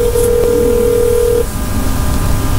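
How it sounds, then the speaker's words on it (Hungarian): A single electronic telephone tone rings for just over a second during a Hungarian radio call-in quiz broadcast, loud and clear over steady background hum. "Szól a telefon."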